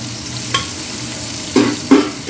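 Chopped green chillies and cumin sauté in a pan on an induction hob with a steady sizzle, and a few stirring scrapes land near the end.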